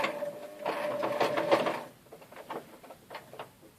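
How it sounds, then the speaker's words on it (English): A sewing machine stitches forward through fabric: a steady, close mechanical whirr with rapid stitching pulses for about two seconds, then quieter scattered taps. "Turn your wheel to get your needle in the material, and then put your foot on. Take you a few stitches forward."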